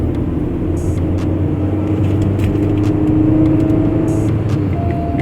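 A 2021 Honda Amaze facelift VX manual's engine revs to around 3500 RPM while driving, a steady, loud, close droning hum that holds throughout with a slight swell midway.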